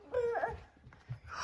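Puppy whimpering in short high whines close by, followed by a few soft sniffs and small noises.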